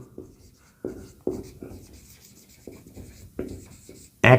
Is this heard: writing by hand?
yes